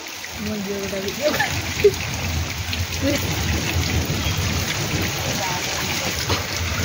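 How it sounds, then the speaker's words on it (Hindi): Steady rain falls on a village, a continuous wash of drops on surfaces with a few brief knocks and splashes scattered through it, close and fairly even in loudness. "ओहो वर्षा टे छाड़ा"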